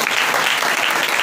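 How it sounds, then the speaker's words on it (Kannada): A church congregation at a Sunday service claps loudly, a dense, continuous burst of applause filling the room. "ಜೋರಾಗಿ ಚಪ್ಪಾಳೆ ಹೊಡಿದೀಗ"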